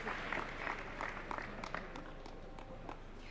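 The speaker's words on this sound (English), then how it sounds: "A better round of applause, please, for them." Faint, steady audience applause for a panel at a national address event, a distant wash of clapping with scattered sharper claps throughout.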